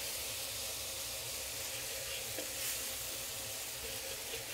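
Chop suey thickened with cornstarch sizzles steadily in a wok while being stirred, a continuous bright hiss with faint scraping touches and no voices.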